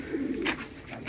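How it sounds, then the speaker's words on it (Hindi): Pigeons in a loft of fancy breeding pigeons give a soft, low cooing over a steady background, with brief brighter chirps mixed in. "ये ले ये भी कबूतर है"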